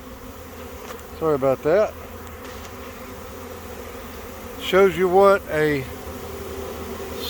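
Swarming honeybees fly in the air around a hive box in swarm season, making a steady, close buzzing drone throughout while someone speaks briefly twice over it.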